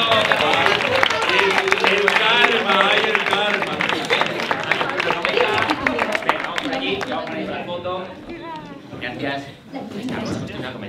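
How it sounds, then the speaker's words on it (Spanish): Audience applause at a live science improv comedy show, sustained clapping with crowd noise and talk mixed in throughout, dipping briefly near the end. "Un aplauso para ella."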